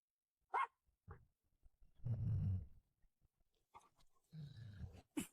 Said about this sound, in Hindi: यह तो छोटी टांगों वाला कुत्ता है